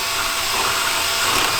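A power drill grinds steadily into a car's oil pan during a Honda Civic turbo install, a continuous close, loud whirring buzz with no pauses.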